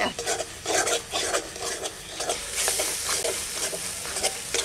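Masala spice paste frying in a pan with a little water during village cooking of cauliflower and katla fish curry, with a steady sizzle and repeated scraping stirs throughout.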